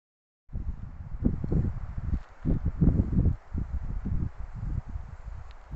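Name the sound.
strong wind sounding like rain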